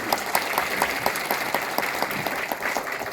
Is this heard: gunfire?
no